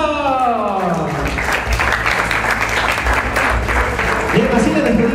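Guests at a quinceañera party applaud in a sustained, fairly loud wash of clapping, while a sliding musical tone and low background sound or voices run underneath.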